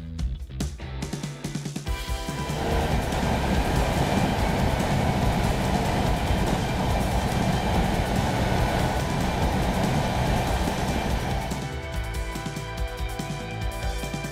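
Riding a BMW F800GS motorcycle along winding roads in Andalusia, heard as a continuous loud rushing roar of engine and wind that builds after a couple of seconds and holds steady, with no voices.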